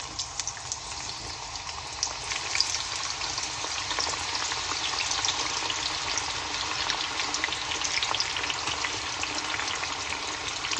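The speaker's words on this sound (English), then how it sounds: "I think the onion is hot now. So the oil is hot now. Let's add onion slices in it." Onion slices deep-fry in hot oil for a chicken biryani, giving a continuous crackling sizzle with fine popping spatters. The sound is close and fairly quiet and holds steady throughout.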